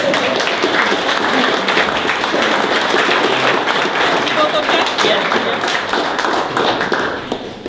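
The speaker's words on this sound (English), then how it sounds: "Ladies and gentlemen, I think you deserve a round of applause." Wedding guests applauding after the vows at a ceremony, a loud sustained round of clapping from a crowd lasting several seconds before tapering slightly at the end.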